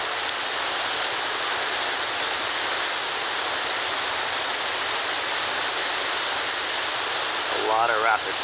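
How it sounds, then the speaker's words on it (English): The waterfall on the Mississippi River in Minneapolis roars as a steady, loud broadband rush of falling water, unbroken throughout, with a brief voice near the end. "Here's the waterfall in Minneapolis on the Mississippi River."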